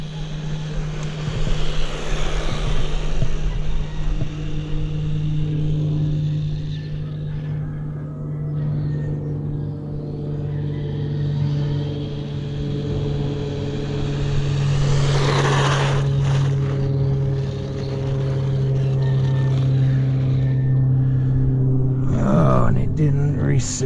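A Laegendary 1/16 brushless 4x4 RC truck runs at full throttle some distance away outdoors, its motor giving a sustained whine that rises and falls as it passes, with brief louder surges.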